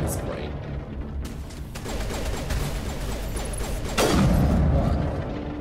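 Sniper rifle fire in the Mass Effect game, a dense stretch of gunfire and impacts with a heavier blast near the end, close and loud amid continuous combat noise.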